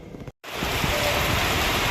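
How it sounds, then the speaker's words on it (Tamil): Heavy rain pours down in a steady, dense hiss and roar. It drops out for a moment near the start, then resumes, loud and unbroken. "நல்லா மழை பெய்யுது. நல்லா மழை பெஞ்சிட்ருக்கு."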